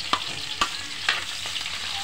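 Garlic and the white parts of spring onion sautéing in a home-cooking pan, a steady close sizzle broken by four sharp stirring scrapes of the utensil at regular intervals.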